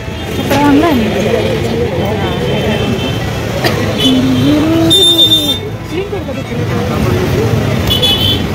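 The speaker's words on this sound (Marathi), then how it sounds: "आणि हा आमचा मेन रोडचा सगळ्यात मोठा प्रॉब्लेम म्हणजे ही ट्रॅफिक, जिथे रस्ता छोटा आणि गाड्या मोठ्या असतात" Busy traffic on a narrow main road in Nashik, crowded with large vehicles, makes a steady roar with occasional horn toots, running under continuous talking.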